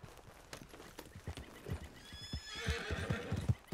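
A horse whinnies in the video game Red Dead Redemption 2, a drawn-out neigh rising over a run of hoof clip-clops on the ground, moderately close and fairly quiet.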